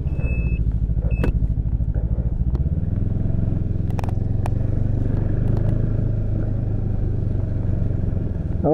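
A snowmobile engine drones steadily and loudly while riding a trail around Terrebonne and La Plaine, a constant low rumble that shifts pitch slightly partway through, with a few brief beeps and clicks early on.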